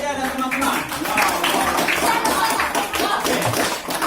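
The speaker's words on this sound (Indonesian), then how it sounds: "Kita berikan tepuk tangan untuk Yudia dan teman-teman." Classroom applause for Yudia and friends during a teaching session, a dense, steady patter of many hands clapping throughout, loud and close, with some voices mixed in.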